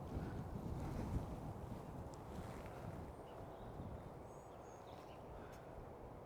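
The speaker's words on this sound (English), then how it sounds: "apart from the damn wind." Strong wind blows steadily across the microphone outdoors in a cemetery, a dense continuous low rumble and buffeting that stays loud throughout with no speech.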